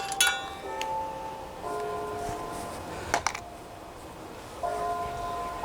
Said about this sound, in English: That's my town bells. They ring at noon.